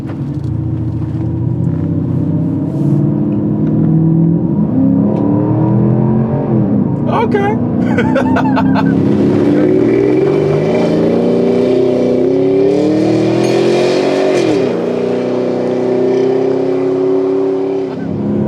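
A deep Porsche Cayenne S engine rumbles steadily as heard from inside the cabin, revving up and settling with gear changes, while a person speaks briefly.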